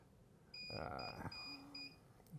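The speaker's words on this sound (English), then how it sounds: "We are then just going to stop the beeping on the recorder" A Dahua XVR security video recorder emits a series of short electronic beeps repeating in a steady rhythm, thin and high-pitched, over a low background hum.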